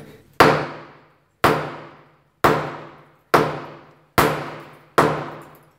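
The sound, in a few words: hammering ceramic floor tile to remove it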